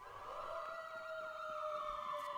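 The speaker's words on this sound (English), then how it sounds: "The alarm's gone off." An alarm siren in the video game Watch Dogs 2 wails with a steady sustained tone and a slight pitch sweep, moderately distant and alone throughout.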